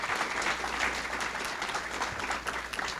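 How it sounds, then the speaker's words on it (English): At a fine arts awards show, an audience applauds the art staff with sustained, fairly soft crowd clapping that runs evenly through the whole moment. "Can we give them a massive round of applause?"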